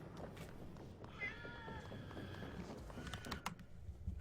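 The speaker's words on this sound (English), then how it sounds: "the cat literally jumped on the keyboard, so I had to escape to move the cat." A house cat near a computer keyboard lets out a drawn-out meow over a busy background of video game sounds.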